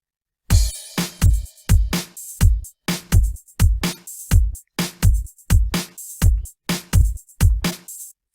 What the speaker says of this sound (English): so I've got a drum loop in here just so it sounds like this